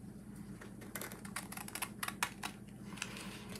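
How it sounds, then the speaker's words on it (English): Scissors snip along the fold of a sheet of paper, giving a quick run of faint, close, crisp cuts in an uneven rhythm over a low steady hum. "I'm going to try my best to cut straight by making sure that my scissors are lined up with the paper before I cut."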